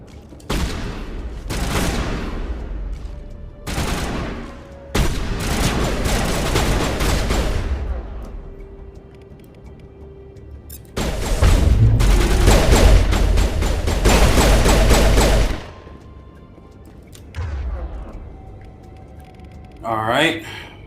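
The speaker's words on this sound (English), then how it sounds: "Rex over there letting them rounds go," Heavy bursts of weapon fire in Mass Effect Legendary Edition combat on Insanity difficulty, loud volleys coming in several separate stretches with quieter gaps, while someone talks over them.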